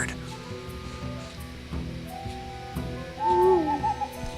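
An owl from the Hearthstone card game hoots twice in quick rising tones near the end, over low game music and effects.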